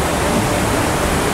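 A waterfall in Hokkaido, seen from a swaying suspension bridge, pours as a steady, dense roar of rushing water, loud and unbroken, with no voices.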